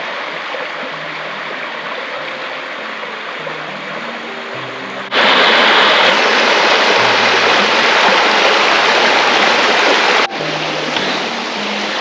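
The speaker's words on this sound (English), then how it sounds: "There's the beautiful sounds of the stream." A stream flowing beside a river trail gives a steady, full rush of water with no break, and it grows noticeably louder and brighter for a few seconds in the middle before settling back.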